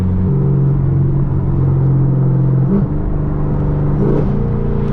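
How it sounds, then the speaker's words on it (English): A Camaro ZL1's supercharged engine roars steadily at high revs with a whining, droning tone, briefly dipping and surging back in pitch during a night drive. "Y'all can hear that supercharger screaming."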